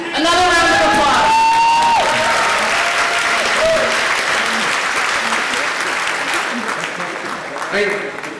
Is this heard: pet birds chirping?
no